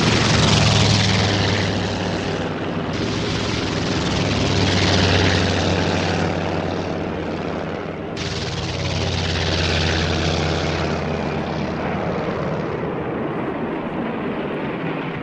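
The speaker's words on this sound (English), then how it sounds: "167 aircraft of the second wave of attackers took off" Propeller aircraft of the WWII Japanese second-wave attack force on Pearl Harbor taking off: a loud, steady engine drone that swells and fades as planes pass, continuous throughout with no talk.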